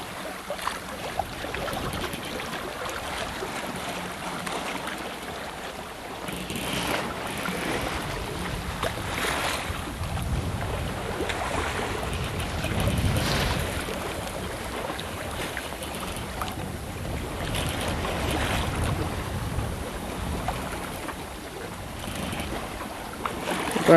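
A sailboat runs under spinnaker at sea at about 3.5 knots in roughly 8 knots of wind, a steady, soft wash of wind and water that continues with little change and no voices.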